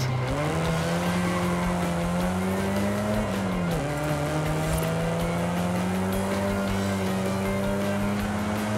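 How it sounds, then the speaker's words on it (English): A BMW 2002 Turbo in Forza Horizon 5 holds a strained, buzzing engine note at speed, with one brief dip and recovery partway through, loud and steady from start to finish. "I really love the sound of this engine, my friends."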